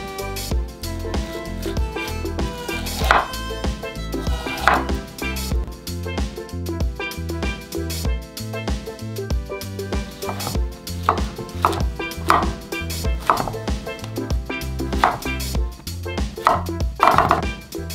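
A knife cutting and shaving the skin and eyes off a pineapple on a board, a steady run of close, crisp chopping strokes in quick rhythm, no talking.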